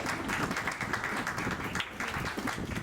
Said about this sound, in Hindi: इनके लिए एक बार तालियां बजाएं